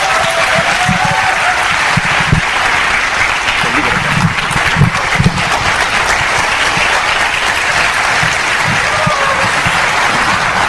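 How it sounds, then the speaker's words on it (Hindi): Sustained loud clapping from a large crowd at an Amway seminar fills the room, steady and continuous throughout with no pauses. "जोरदार तालियां"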